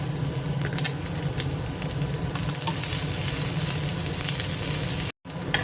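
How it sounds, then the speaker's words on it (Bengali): Chopped onion sizzles in a pan of shallow oil with fried garlic, a loud, continuous crackling hiss heard close up and alone, broken by a brief silent gap just before the end. "রসুনটা ভাজা হয়ে গেছে দিয়ে দেবো পেঁয়াজ কুচোটা"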